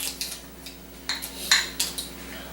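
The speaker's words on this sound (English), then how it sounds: "so we're gonna mix the sauce in" A spoon scrapes and clinks against a bowl while mixing sauce into crushed eggs for deviled eggs, a string of short, close metallic taps and scrapes at an uneven pace with no talk.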